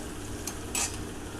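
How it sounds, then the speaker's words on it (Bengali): Ground coriander, cumin, turmeric and chilli powder being stirred in a hot cooking pan, a soft sizzle running throughout with a couple of brief scraping clinks from the utensil against the pan, close and quiet. "ধনে গুঁড়ো, জিরে গুঁড়ো, হলুদ গুঁড়ো, লঙ্কা গুঁড়ো, সমস্ত মশলাগুলো দিয়ে আমি এখন নাড়াচাড়া করে দেব।"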